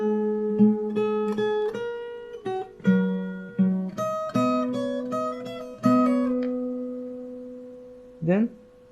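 Fingerstyle acoustic guitar plays the melody of a song, plucked single notes ringing over a sustained bass note, with a slide near the end, clear and close.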